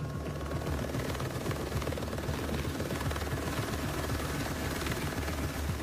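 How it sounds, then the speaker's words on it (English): Helicopter flying at night, heard from inside the cabin as a loud, steady rotor chop with continuous engine drone and no talking. "This is the very first time I've ever flown in a helicopter at night"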